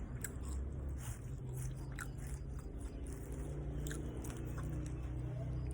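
Close, continuous crunchy chewing and biting of home-fried food, with steady wet mastication and crisp crunches throughout and no talk.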